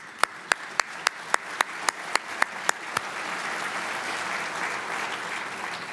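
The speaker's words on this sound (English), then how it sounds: "So let's clap right here." Applause from an audience at a city address, a State of the City event, opens with a few loud, evenly spaced single claps and then swells into a steady wash of crowd clapping.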